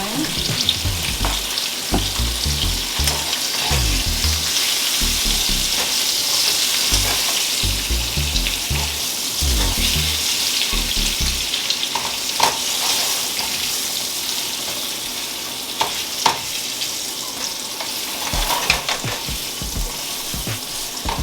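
Carrots sizzling as they cook down in a pan: a long, steady frying hiss with bursts of stirring and scraping near the start and occasional sharp clicks, no voices.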